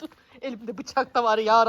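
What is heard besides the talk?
None of the usual background noises is heard.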